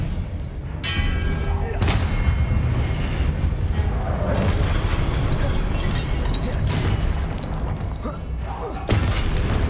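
Confringo blasting spells detonate repeatedly in a Hogwarts Legacy battle, loud booming explosions and crashing impacts layered over a constant rumbling din of combat, with sharp bursts near the start, middle and end.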